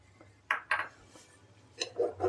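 A pan of chana dal sweet being stirred, giving a few brief scraping and clinking strokes of the spoon against the pan, close by and fairly quiet, with no talking.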